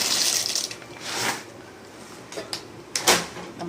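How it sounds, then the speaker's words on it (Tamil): Pasta goes into a pot of boiling salted water, heard as close bubbling and watery splashing with a few soft clinks and knocks from the pot or utensils. "இப்போ வந்து நம்ம இதை பாஸ்தாவை போடுறோம்."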